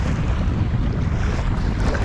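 Cold, gusty wind buffets the microphone outdoors while fishing with a Shimano Bantam baitcaster, a steady loud low rumble filling the whole stretch with no pauses.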